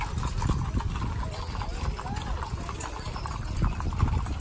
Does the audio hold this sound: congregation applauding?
no